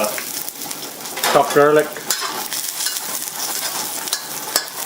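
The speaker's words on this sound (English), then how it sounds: "So just stir fry that for about 15 seconds." Sliced ginger and chopped garlic stir-fried in a hot wok, sizzling loudly and steadily. A spatula scrapes and clatters against the metal, and a brief voice cuts in near the middle.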